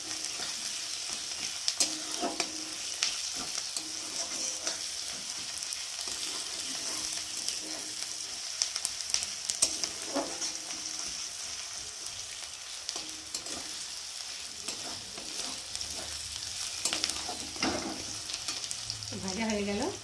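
Garlic frying in oil in a pan while being cooked until reddish, a steady crackling sizzle with occasional stirring scrapes, close and continuous throughout.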